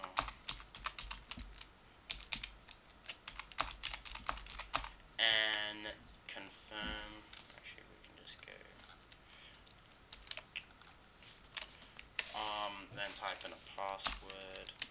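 Typing a username on a computer keyboard while setting up Myth II on Linux: close, quick bursts of key clicks with short pauses between them, plus a few louder taps.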